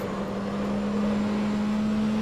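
A race car engine drones at a steady pitch, slowly rising, loud and continuous throughout with no talking.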